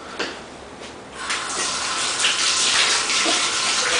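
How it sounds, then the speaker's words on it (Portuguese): Hands being washed under a running kitchen tap while preparing chicken, a steady broad gush of water that swells after the first second and carries on alone, fairly close. "vou lavar a mão de novo"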